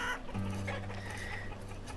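Chickens cluck in a pasture in the village-building video game Banished, a few close, repeated throaty clucks over a soft ambient backdrop.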